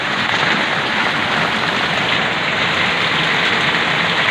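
Heavy rain pours down in a dense, unbroken roar, loud and steady throughout with no voices.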